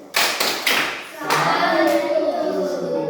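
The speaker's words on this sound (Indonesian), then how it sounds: "Kita beri tepuk salut." A classroom group gives a rhythmic salute clap, several sharp claps in quick succession followed by a longer burst of applause, with voices chanting along during a teaching session.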